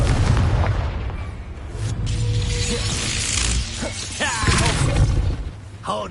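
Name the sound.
Expulso and Confringo explosion spells, Hogwarts Legacy video game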